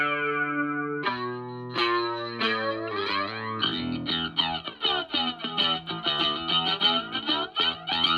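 A bass tone run through the Waves Kaleidoscope plugin: a sustained, chorus-heavy filtered note gives way to stepped notes, and a busier, distorted pattern with rhythmic pulses builds up, loud and steady with no talking.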